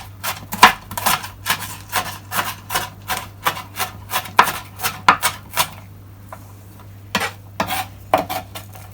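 Half a white onion is sliced with a knife on a board in a steady run of crisp, evenly spaced chops, about two per second, pausing briefly before a few final cuts.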